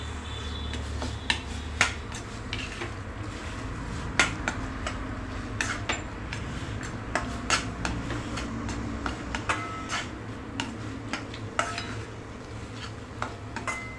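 Pineapple and coconut with fresh cream are stirred in a pan with a spatula, producing a faint sizzle under repeated sharp scraping and clinking taps that land at an irregular pace, close and without talk.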